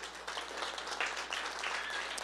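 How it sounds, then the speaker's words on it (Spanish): A church congregation applauds together, a dense, steady wash of many hands clapping at fairly even loudness for a couple of seconds, with no voices standing out. "Denle un fuerte aplauso al Señor"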